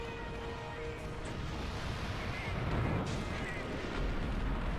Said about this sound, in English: load the cannon again